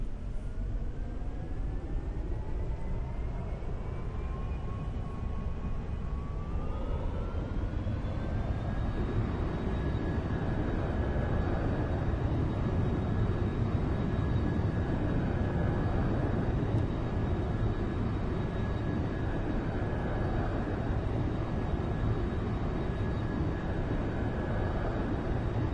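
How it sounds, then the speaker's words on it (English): An aircraft taking off, heard from inside the cockpit: a steady loud engine roar with a rising whine that climbs in pitch and then holds as power builds through the roll. "I'm just going to press this button and we'll take off."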